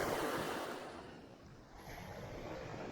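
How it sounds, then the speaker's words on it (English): Heavy ocean surf stirred up by Hurricane Ian washes onto a beach, a soft, steady hiss and rush of breaking waves that swells and eases slightly, mixed with light wind noise. "All those waves are a byproduct of Hurricane Ian."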